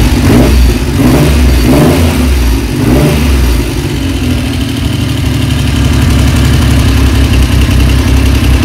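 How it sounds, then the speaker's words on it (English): Freshly restored Triumph Trident T160 triple idling deliberately fast on a new engine, a steady loud mechanical rumble throughout with a few brief blips early on and no talking. "Okay, I've got a bit of a fast tick over."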